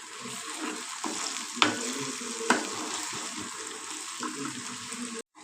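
Ginger garlic paste frying in a pan while being stirred, a dense continuous sizzle with a few sharp spoon clicks and scrapes, cutting off abruptly near the end.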